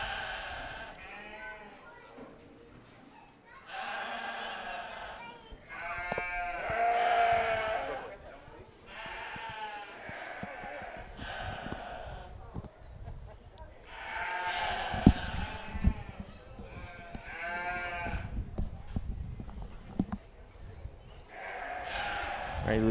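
Sheep and lambs bleat repeatedly at a county fair sheep show in Las Animas County, with loud, wavering bleats coming in several bursts close by over a noisy arena background, and people talking in between.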